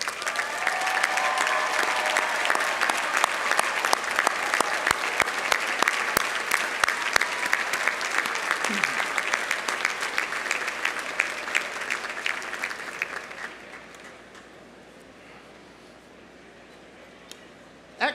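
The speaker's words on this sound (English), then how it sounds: "please rise so we may recognize and applaud your love and your support" A commencement audience at Eckerd College's 2023 graduation applauds the students' families and friends, dense sustained clapping from a large crowd that fades out near the end, leaving quiet room tone.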